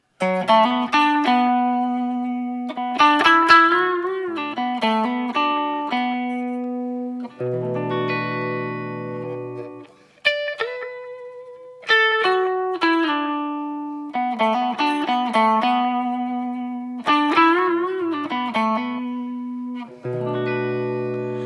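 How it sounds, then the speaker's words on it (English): A Gibson Les Paul Standard electric guitar, middle pickup position with the two pickups out of phase, plays a melodic phrase with a thin, hollow, nasal tone, notes and short chords repeating with slides and bends, no voices. "this guitar has the middle position, which brings the two pickups in out of phase together"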